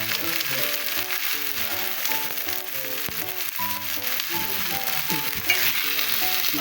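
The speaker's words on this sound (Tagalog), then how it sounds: "Medyo i-fried na natin siya para hindi masyadong umay." Food sizzles and crackles steadily in a frying pan, with a television and neighbours' singing playing loudly alongside it throughout.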